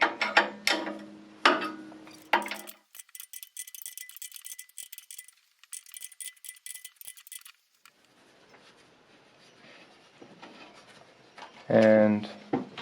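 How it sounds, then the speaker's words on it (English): A nut is loosened and the motor is pulled from a Jones and Shipman 540 surface grinder, with rapid metallic ratcheting clicks in bursts followed by faint rattling, while someone talks at the start and end. "Loosen the nut over there, and then pulling the motor up."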